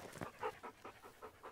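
A Belgian Malinois border patrol dog pants quietly and close by, a steady rhythm of about seven short, breathy puffs with no talk over it.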